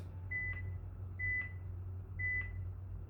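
Three short electronic beeps from an exercise timer during a slow, deliberate movement class, evenly spaced about a second apart, clear over a low steady hum in a quiet room.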